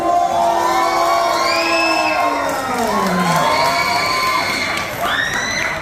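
Crowd of spectators at a youth Thai boxing bout cheering and shouting loudly, many high voices whooping and rising in pitch in a continuous dense roar.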